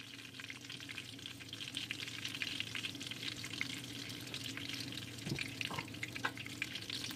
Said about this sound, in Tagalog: Iprito ang talong sa low-medium heat ng 5 o hanggang 10 minuto.